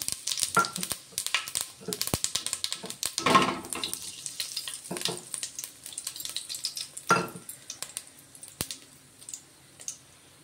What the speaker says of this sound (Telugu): ఆయిల్ వేడెక్కింది. ఇదిగోండి మసాలాలు వేసుకున్నాం.